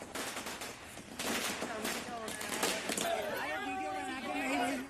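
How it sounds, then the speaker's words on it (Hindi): Party workers set off loud fireworks in front of Gandhi Park to celebrate the chief minister's reappointment, a rapid crackling volley of bursts heard among a crowd, with voices and cheering rising over it. "कार्यकर्ताओं ने गांधी पार्क के सामने जोरदार आतिशबाजी की और मिठाई बांटी"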